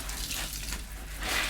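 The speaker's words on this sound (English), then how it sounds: "it just helps to get rid of quite a lot of the sudsy water before you start rinsing the clothes" Sudsy water drains from a Leisure Direct GLW-82706 portable washing machine, a steady close trickle and gush of running water that swells slightly toward the end, with no voices.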